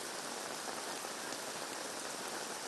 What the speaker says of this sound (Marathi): अगदी पहाटेच्या सुमारासच पाऊस बरसायला सुरुवात झालेली आहे